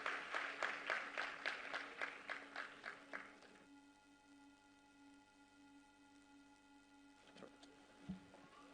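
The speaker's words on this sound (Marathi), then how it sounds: "एकदा रुपालीताई चाकणकर यांच्यासाठी जोरदार टाळ्यांचा वर्षाव करूया मंडळी" Audience applause at a Women's Day inauguration event: rhythmic clapping in unison for about three seconds, fading out into a low hum of room noise with a faint bump near the end.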